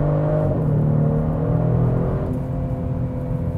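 A 2022 Genesis G70 launching from a standstill under launch control, a loud steady engine drone with a rising tone that levels off, heard from inside the cabin with no talk over it.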